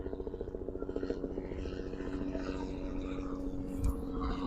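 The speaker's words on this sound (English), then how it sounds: "And we're buzzed by another helicopter." A helicopter's rotor throbs in a steady pulsing drone over a cricket ground during a club match, fairly loud and continuous throughout.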